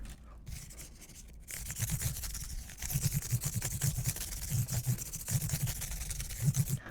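Fine 600-grit sandpaper rubbed over the frets of a Yamaha bass guitar, a quick back-and-forth scratchy scrubbing in irregular bursts, close and moderately loud, with no talking.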